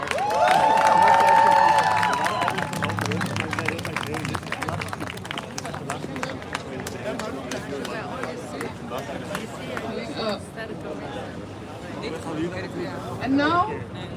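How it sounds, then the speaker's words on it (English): A crowd at a Sudan protest in Amsterdam claps and cheers, with a loud burst at the start that thins into scattered clapping and murmuring chatter. "A very big applause for Sahel."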